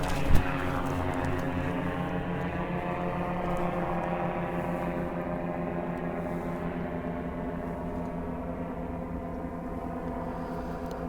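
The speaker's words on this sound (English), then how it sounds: "It's like a two-man airplane flying over me." An old-fashioned two-seat propeller airplane passes overhead, its steady droning hum with layered engine harmonics holding at moderate loudness for the whole stretch, with no talking.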